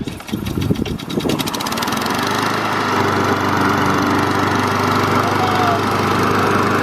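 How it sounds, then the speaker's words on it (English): Engine of a new lawn mower starting with a sputtering rattle, then settling into a loud, steady droning run close by. "All right, so let's see how I like this mower."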